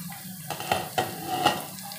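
Peas, carrot and potato pieces stirred in a pot for vegetable pulao, giving a few scraping clinks of a spoon against the metal over a soft sizzle, close and moderately quiet.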